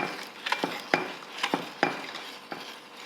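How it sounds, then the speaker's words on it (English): A spoon stirring custard powder mix into near-simmering milk in a pot for trifle, a series of distinct scrapes and light knocks against the pot at an uneven, roughly half-second rhythm, close and clear. "I will keep stirring this till it comes a little thick, not too runny"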